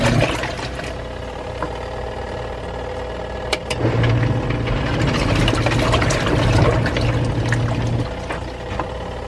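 A portable washing machine runs with a steady mechanical motor hum and sloshing, churning water, continuous and fairly loud throughout, with a brief clunk partway through.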